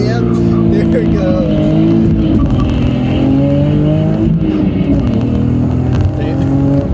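Infiniti G37s racing a Ford F250 Powerstroke diesel truck in a roll race, engines revving hard with rising gear pulls and tire noise, loud and close from inside a vehicle, people talking over it.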